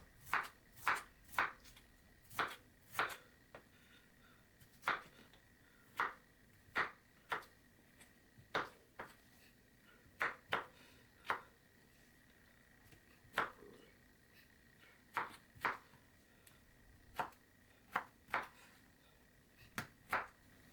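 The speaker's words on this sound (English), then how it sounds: "Okay, now I'm cutting the garlic." Knife chopping garlic on a cutting board in a home kitchen, preparing a Bengali rohu fish curry: sharp, irregular taps spaced about one per second, close and clear with no talking.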